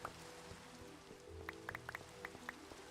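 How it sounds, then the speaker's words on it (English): Minecraft rain pattering as a faint steady hiss, with a handful of distinct drip-like taps scattered through it at an uneven rhythm. "And now it's raining."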